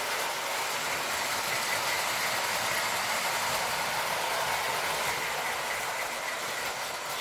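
A steady, continuous rumble and hiss of a Lionel tinplate model train, a General locomotive pulling circus cars along its track, even in level throughout with no voices.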